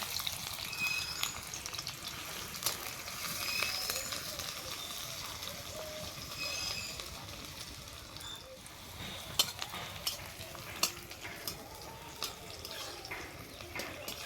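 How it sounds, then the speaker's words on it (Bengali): Chopped onion fries in hot mustard oil in a kadai, a continuous crackling sizzle with occasional sharp stirring scrapes, cooked in a village-style kitchen. "দিয়ে দেবো তেল গরম হয়ে গেছে, দিয়ে দেবো পেঁয়াজ কুচি"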